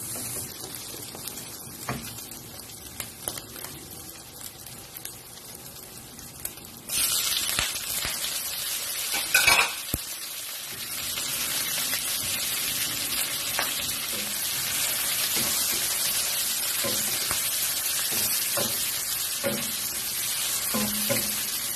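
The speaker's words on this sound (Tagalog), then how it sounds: "Pwede na natin igisa dito ang ating onion, garlic at kamatis." Onion, garlic and tomato sizzle in a hot pan, crackling steadily as they are stirred, with the frying swelling louder partway through and holding a continuous hiss.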